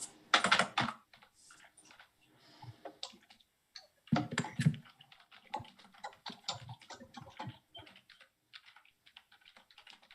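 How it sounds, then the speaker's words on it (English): Typing on a computer keyboard during a city council meeting, with irregular bursts of close key clicks separated by short pauses. "while he's typing"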